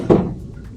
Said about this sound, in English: Let me actually open this door here.